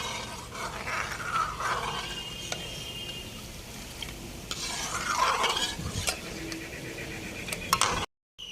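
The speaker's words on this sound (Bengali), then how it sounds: "এবার দুধটা জাল দিয়ে নেব" Milk heats in a wok over a stove while a utensil stirs it, scraping and clinking against the metal in uneven strokes over a low hiss, close up, with no one speaking.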